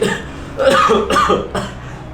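A couple of forced coughs in quick succession, close and loud, sounding deliberate rather than natural.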